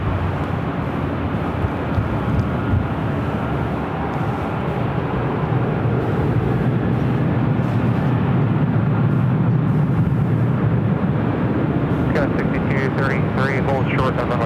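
A Southwest airliner takes off from runway 24 left at LAX with a loud, steady engine roar that fills the whole clip and swells slightly toward the middle. Faint radio voices sit underneath.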